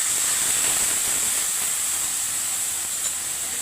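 Spiced water poured into hot oil with hilsa fish and eggplant makes a steady, dense sizzling hiss that holds at an even level throughout, close and fairly loud.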